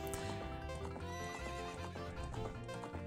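Epona the horse in The Legend of Zelda: Ocarina of Time gives a loud, ringing game whinny over steady clip-clop hoofbeats, with background music playing throughout.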